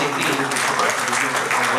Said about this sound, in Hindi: एक बार जोरदार तालियां डॉक्टर साक्षी के लिए